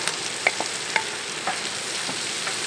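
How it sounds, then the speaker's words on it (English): Vegetables fry in garlic butter on a TemboTusk Skottle griddle, giving a soft, even sizzle broken by a few faint clicks and pops, with no talk. "we're cooking our vegetables in some nice garlic butter"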